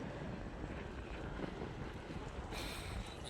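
Wind blowing hard at a hilltop viewpoint, a continuous rough roar buffeting the microphone, faint and steady throughout.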